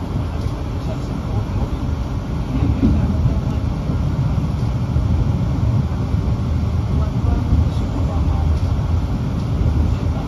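A loud, continuous low rumble and clatter of a stainless steel economy-class Bogowonto passenger train rolling past close by, steady for the whole stretch with no clear talk.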